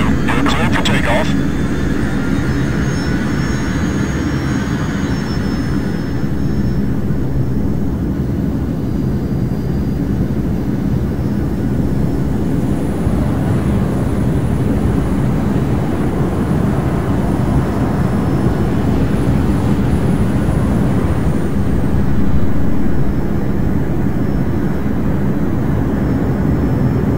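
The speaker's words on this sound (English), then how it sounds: "Hornet 2, you're cleared for takeoff." A jet fighter in the ARMA 3 game powers up for takeoff, a loud steady roar with a rising whine layered on top, heard under radio chatter.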